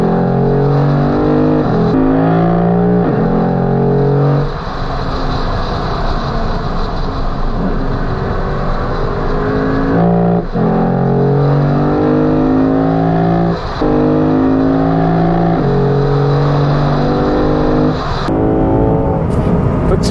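A 2022 Lexus IS 500 F Sport Performance pulls hard under acceleration, its engine note climbing loudly through the gears with short breaks at each shift, heard continuously for about twenty seconds.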